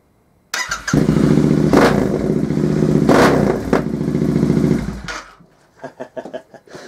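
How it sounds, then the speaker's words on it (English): A loud, raw Royal Enfield Interceptor 650 motorcycle with an unbaffled Flex-Tek exhaust revs hard and holds a harsh, throaty roar for several seconds, then cuts off, leaving a few sharp pops and crackles. "we've got the Flex-Tek exhaust on the back with no baffles in. Is it going to be too loud"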